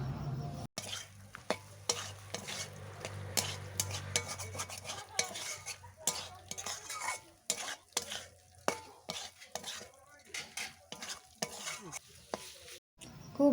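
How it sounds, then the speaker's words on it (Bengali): Mushrooms stir-fried with spices in a pan, sizzling steadily while a spoon scrapes and clacks against the metal in an irregular rhythm, close and clear with no talking. "এরপর মাশরুম ভালোভাবে আমি মশলার সাথে কষে নেব অল্প অল্প জল দিয়ে ভালোভাবে কষতে থাকবো"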